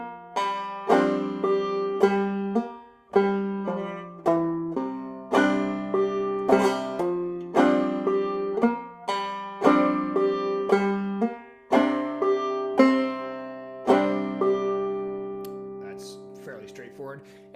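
A droney melody on a plucked string instrument played with hammer-ons, pull-offs and drop-thumb strokes, a steady run of ringing picked notes over a sustained low drone, clear and close without talk.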